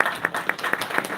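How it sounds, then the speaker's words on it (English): An audience at a Route 66 preservation conference in 2018 applauds, a brief patter of many hands with a few louder claps standing out in a steady rhythm, moderately close. "So we owe her a round of applause."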